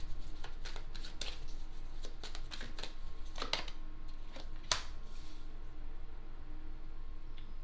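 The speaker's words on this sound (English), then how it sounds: "Let's pull one more card." Tarot cards being shuffled by hand: a quiet, close run of papery riffles and soft slaps that come in bursts, then thin out near the end, with no voice.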